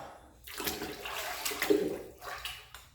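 Water sloshes and splashes as a cast aluminum engine part is dunked into a container, with a few bursts of churning and dripping close by.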